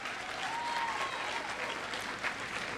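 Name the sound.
graduation audience clapping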